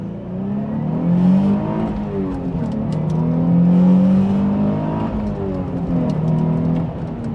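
A Nissan 350Z with a VQ-series V6 accelerates hard through a few gears, its engine note climbing steadily in pitch, dropping briefly at each upshift, then rising again. Loud and close from inside the car, with no talking.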